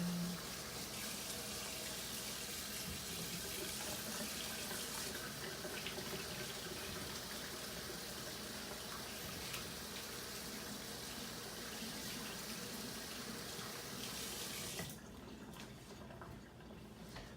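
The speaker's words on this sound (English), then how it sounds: "Wash my hands." Tap water runs in a steady, continuous stream into a sink during hand washing in a home kitchen while preparing Chilean sea bass, stopping abruptly near the end.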